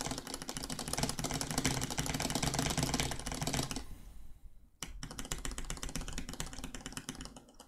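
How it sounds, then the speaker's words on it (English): Typing on a mechanical keyboard with brown switches: a fast, dense stream of close, crisp key clacks that stops for about a second and then starts again, with no talking. "If you're here for keyboard ASMR, you came just in time."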